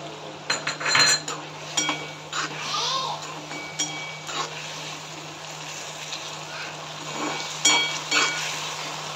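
A spoon stirring cornflour slurry into chilli paneer gravy in a pan makes repeated metallic clinks and scrapes against the pan in an irregular rhythm, over a steady background hum.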